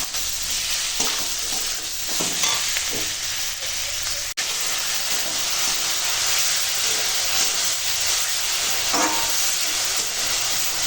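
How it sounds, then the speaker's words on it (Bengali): Spice paste of tomato, turmeric and chilli powder frying in oil for a Bengali fish curry, a steady loud sizzle with stirring scrapes throughout, no talk. "এখন মশলাখানা কষাবো ওই টমেটোটা নরম হওয়া পর্যন্ত একদম আমি কষাবো"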